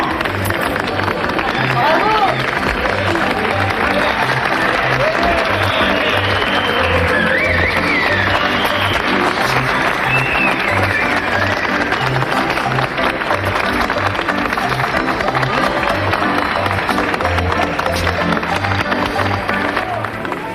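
A crowd applauds a baby and her mother, a long, loud, unbroken roar of clapping mixed with crowd noise and some voices underneath.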